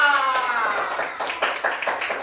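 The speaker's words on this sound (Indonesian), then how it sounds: "Tepuk tangan untuk Cinta." Scattered hand claps from a small group for the winner of a classroom game, starting after a brief tonal sound and continuing unevenly, moderately loud.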